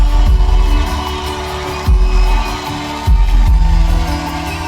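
A live concert recording plays through the car audio system of a new BMW 4 Series, loud and dense, with crowd noise and deep drum thumps blending together.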